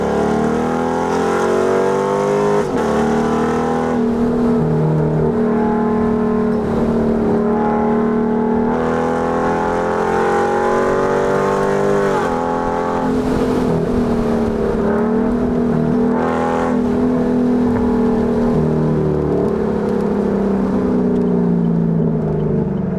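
A Chevrolet Camaro SS V8 with an automatic gearbox held in manual mode revs hard and steadily, its deep engine note climbing and falling through long pulls, loud and close, with no talking.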